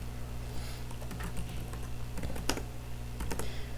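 Quick bursts of keystrokes on a computer keyboard as a short terminal command is typed, close and clear over a low steady hum, with no voices.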